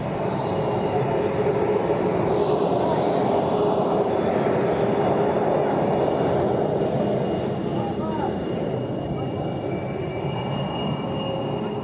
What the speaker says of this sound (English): there's one that's landing as well right now. There's another jet, short final.